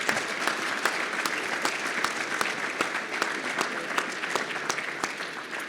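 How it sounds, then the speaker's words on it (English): An audience at a national security forum applauds a panel, with sustained, even clapping from many hands and crisp individual claps standing out, moderately distant and steady throughout. "please offer a round of applause to this panel as well as all of our panelists today"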